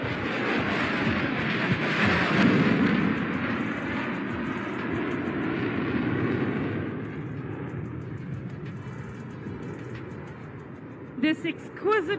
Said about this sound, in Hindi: बहुत ही तेजी से रोल करता हुआ सुखोई 30 आपके सामने।